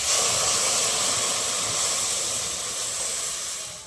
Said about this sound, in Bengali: এবার আমি গরম করে রাখা দুধ দিয়ে দেবো।